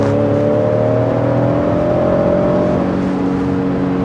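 A Lincoln Navigator Reserve short-body's 3.5-litre V6 engine drones loudly and steadily, its pitch rising slightly as it accelerates, heard continuously from inside the cabin with no talking.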